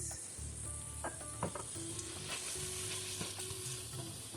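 Onions frying in a pan with masala spice mix, a steady close sizzle under a few scraping stirs from a utensil, with no talk.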